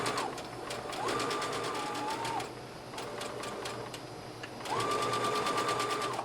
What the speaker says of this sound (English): in my needle down position, I'm going to straight stitch